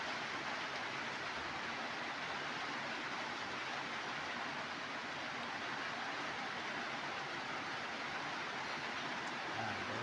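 Rain falls steadily at night, a constant even hiss with no breaks, moderately quiet and unchanging throughout.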